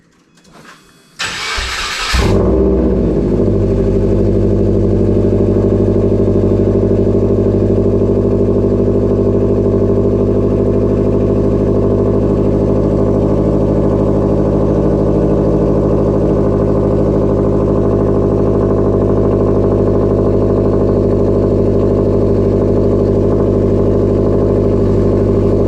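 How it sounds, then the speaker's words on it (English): A 2011 Subaru with an eBay exhaust makes a cold start: a brief cranking burst, then the engine catches and settles into a loud, steady, deep idle that drones on close by for over twenty seconds. "This is a cold start."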